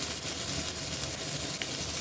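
Carrot, potato and green peas sautéing in a pan for vegetable wheat broken upma give off a steady, close, soft sizzling hiss with no voices.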